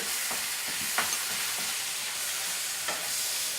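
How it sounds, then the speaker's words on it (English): Ground turkey browning in a nonstick pan as a wooden spoon stirs it, a steady hissing sizzle broken by a few soft scraping strokes. "This method is called browning your turkey or browning your meat."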